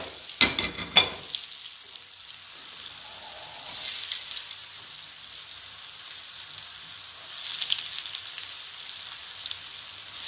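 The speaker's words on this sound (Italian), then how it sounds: "during the frying, you don't have to touch and to move the balls" Zucchini balls fry in a pan of hot oil, a steady soft sizzle that swells and fades, after a brief clatter at the start, in a Sicilian home kitchen.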